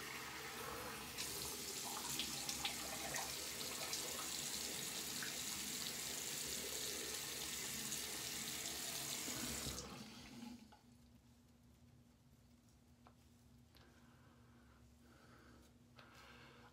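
Tap water runs steadily into a sink while someone rinses their face after shaving, a close hissing splash lasting about ten seconds before the flow stops, leaving a quiet room with faint handling noises.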